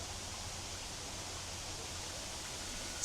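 Whatcom Falls waterfall and creek in a Washington State city park, a soft, steady broadband rush of falling and flowing water, distant and even throughout with no talk.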